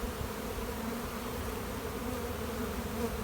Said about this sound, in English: Good to see bees landing here with pollen all over them.